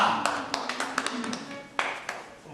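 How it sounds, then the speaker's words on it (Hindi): Scattered hand claps ring out from an audience in the Hindi stage play Bakri, welcoming a newly elected parliament member, a handful of sharp separate claps with short gaps rather than a full ovation. "तालियां।"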